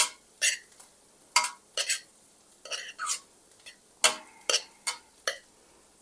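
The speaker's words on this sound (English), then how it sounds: "stir that all together" A spoon scrapes and clinks against a pot while spaghetti pie mixture with cheese and egg is stirred together, making irregular close taps and scrapes in short bursts over quiet background.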